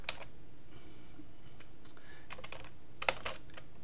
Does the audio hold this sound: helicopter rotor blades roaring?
no